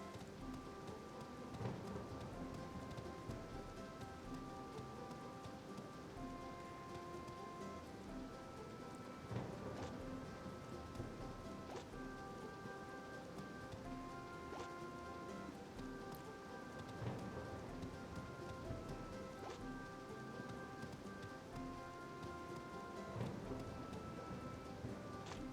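Steady, dense rain with rumbles of thunder fills a thunderstorm scene in the farming video game Harvest Moon Animal Parade, continuous and moderately loud throughout with no talking.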